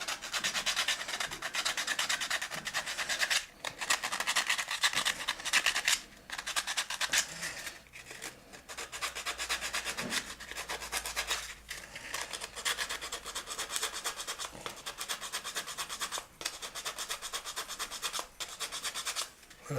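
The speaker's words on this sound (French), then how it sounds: "Après, faut passer son temps à poncer." Sandpaper rubs rhythmically on a wooden marionette, a steady scratchy rasp in repeated strokes with short pauses, close by and with no talk.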